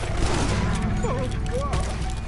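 Dense gunfire crackles in the Red Dead video game, a loud rapid volley mixed with shouting voices against a swamp alligator.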